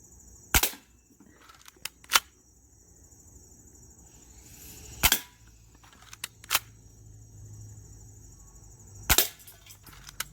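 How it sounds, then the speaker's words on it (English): A Crosman PSM45 air pistol fires four sharp, isolated cracks spaced a few seconds apart, each a crisp, close snap with quiet background hiss in between. "First time shooting this gun."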